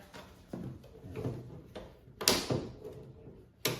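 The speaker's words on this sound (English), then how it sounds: "you got to make sure you put these latches on to keep it from folding on you" Metal latches on an aluminum folding camping table click and snap into place, giving several sharp, close clacks spaced through a few seconds with quieter handling thumps between them.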